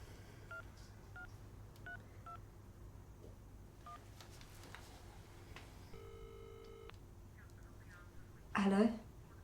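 Several short telephone keypad tones sound as a number is dialed, spaced out and faint in a quiet room, followed by a brief louder burst at the end.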